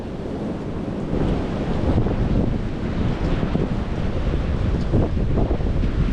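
Steady, blustery wind buffets the microphone beside an old red-brick railway structure, a continuous low roar that swells slightly louder partway through, with no voices.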